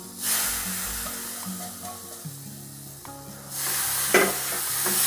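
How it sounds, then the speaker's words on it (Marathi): Roasted semolina being stirred into cooked cucumber in a hot pan for a cucumber sweet, giving a steady close sizzle with scraping stir strokes throughout, no talking. "यात आता आपल्याला जो आपण भाजून घेतलेला रवा आहे तो मिक्स करायचा आहे."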